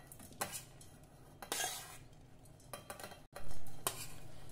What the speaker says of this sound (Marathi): आता आपण हे मिक्सरच्या भांड्यामध्ये घालूया।